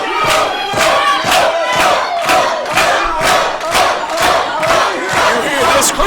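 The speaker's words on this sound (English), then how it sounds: "You hear this crowd?" A loud wrestling crowd chants and cheers for the champion Big O in rhythmic surges, voices rising and falling in a steady repeated pattern close and full.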